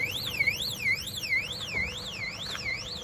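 Electronic alarm on a farm or orchard used to scare off wild boars, a rising-and-falling siren sweep repeating about every half second, moderately distant over faint outdoor background.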